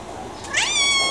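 A cat in a shelter quarantine room gives a single short rising meow, close and clear over a faint room hum.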